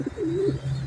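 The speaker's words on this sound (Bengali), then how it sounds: "নর খুব ডাকে, পাগলা নর, খুবই অ্যাক্টিভ কবুতর" A large male pigeon coos once in a short, low rolling call, close and clear, with no voices around it.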